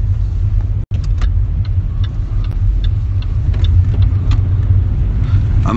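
Car driving, a loud steady low rumble of road and engine noise from inside, with a momentary dropout and faint ticking clicks scattered over it.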